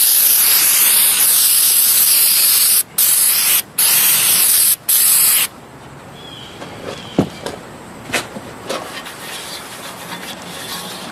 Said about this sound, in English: So I'm going to clean the outside of the pan.